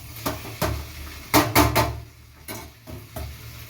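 Chicken pieces in oil in a home kitchen pan, seasoned with salt and chili powder, with sharp close clanks and scrapes of a spoon against the metal pot over a faint background sizzle.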